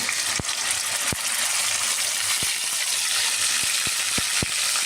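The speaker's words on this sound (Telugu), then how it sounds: "ఇప్పుడు కళాయిలోకి సరిపడేంత ఆయిల్ వేసుకున్న తర్వాత మనం ముందుగా చేసి పెట్టుకున్న ముద్దని వేసుకోవాలి, నూనెలో వేపుకోవాలన్నమాట" Turmeric paste fries in oil in a pan, a continuous close sizzle with a few sharp clicks of a utensil against the pan.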